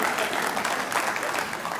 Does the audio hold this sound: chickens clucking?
no